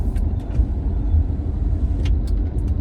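A 1990s Honda Accord on the move, its steady low road rumble and engine drone filling the cabin with no break, plus a few faint higher rattles near the end.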